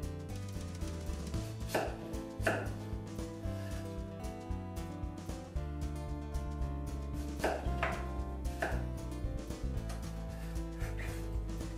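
Sharp knife cutting through pumpkin croissant dough, a string of firm, close chopping strokes with uneven rhythm against a continuous music background; no talking.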